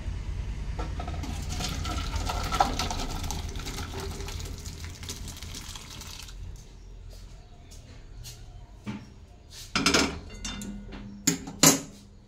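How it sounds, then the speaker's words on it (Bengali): Ghugni is poured from a kadai into a bowl, with a wet, splashing pour and scraping against the pan over the first several seconds, followed by a few sharp clinks of a spoon against metal toward the end. "এবার আমি ঘুগনিটা ঢেলে নিচ্ছি কড়াই থেকে।"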